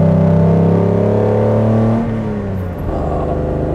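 A 1956 Mercedes 300 SL Gullwing with sidepipes revs loudly and close, its engine rising to a sustained high pitch and then dropping as the throttle comes off, with no voices.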